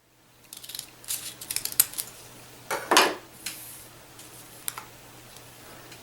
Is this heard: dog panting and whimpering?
no